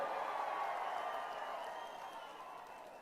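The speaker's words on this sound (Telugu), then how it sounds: "అవును అనుకుంటే గట్టిగా చప్పట్లు కొట్టండి." Crowd applause at a political rally for the TDP party, a broad, sustained wash of many hands clapping that stays loud and then gradually tapers over a few seconds, with no clear voices on top.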